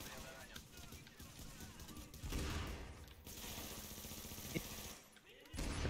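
Gunfire crackles in Tom Clancy's The Division as players fight, bursts of automatic fire mixing with game effects in a busy, dense mix, while players talk over the action.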